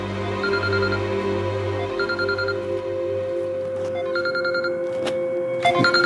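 A telephone rings in a domestic crime-drama scene, with repeated short trilling bursts about every two seconds over a steady low hum, ending with a couple of sharper knocks.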